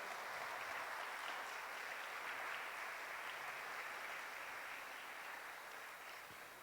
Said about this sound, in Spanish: los recibimos con un fuerte aplauso toda la iglesia